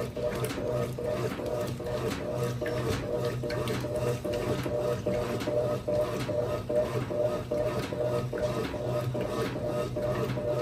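A small twin-tub washing machine (tanquinho) running, a steady mechanical whir with a faint rhythmic ticking and churning, moderate and close, continuing evenly without pauses.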